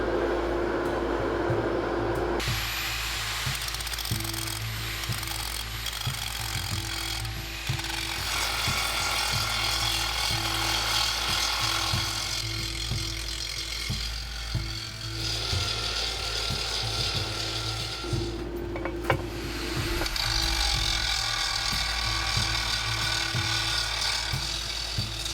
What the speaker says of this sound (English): Let's hit it with the grinder.